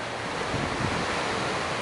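Waves wash onto a lake beach at Sheboygan in autumn, a continuous soft roar of surf blended with gusty wind buffeting the microphone, with no one speaking.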